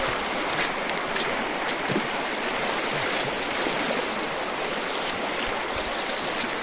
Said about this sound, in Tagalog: Dito tayo sa ilog.